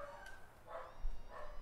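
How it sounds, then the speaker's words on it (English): A dog barks somewhere in the background, giving a few faint, scattered barks and yips spread across a quiet moment with no talk over them. "I apologize if you guys hear the barking in the background"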